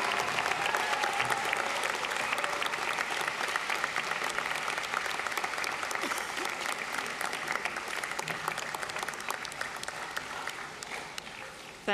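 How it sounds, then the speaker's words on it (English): A graduation audience at Flinders University's College of Nursing and Health Sciences ceremony gives a long, dense, steady round of applause filling a large hall, holding strong throughout before easing slightly at the end. "express that thanks by giving them a rousing round of applause"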